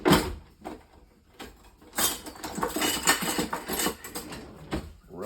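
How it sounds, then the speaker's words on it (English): A Teflon brush spreading olive oil around a pizza pan and up its sides, giving close, uneven scraping and rubbing with light metallic taps, moderately quiet and without speech. "rub that around the pan onto the sides with a Teflon brush, just so that it coats everything evenly"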